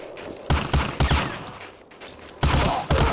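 Gunfire from the Medal of Honor: Allied Assault video game cracks in several sharp, close shots, some in quick pairs, spread irregularly over a background of low game ambience.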